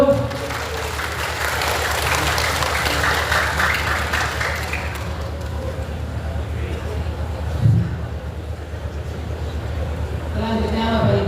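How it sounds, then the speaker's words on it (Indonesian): A hall audience at a Hajj and Umrah office gathering in Tegal breaks into sustained, fairly loud applause that fills the room, with voices mixed in and the clapping thinning near the end. "Tepuk tangan untuk Pak Kiai Lumpur"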